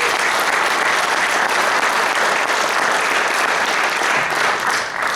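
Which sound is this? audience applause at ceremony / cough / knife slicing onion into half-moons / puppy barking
audience applause at ceremony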